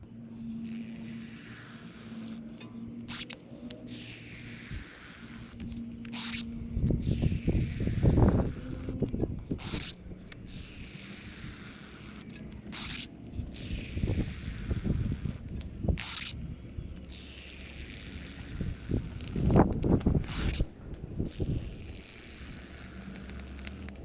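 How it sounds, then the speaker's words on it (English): A Phoenix brake flusher pushes fresh fluid through a rear brake caliper on a 2007 Lexus GS 350 with the bleeder screw open. Repeated hissing spray bursts come in a steady pumping rhythm with low thuds, close by and with no talking. "So I'm going to be pumping in fresh fluid from the caliper up to the master."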